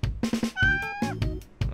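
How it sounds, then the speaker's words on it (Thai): A cat meows clearly and close by, giving a drawn-out, wavering call mixed with short bursts of scuffling and thumping noise. "แมวอ่ะ"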